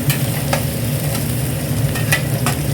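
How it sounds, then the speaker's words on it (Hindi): Onions fry with garlic in a hot pan, giving a continuous loud sizzle broken by sharp spatula scrapes and clicks, with no voices. "थोड़ा सा भुना उसके बाद प्याज डालती हूँ"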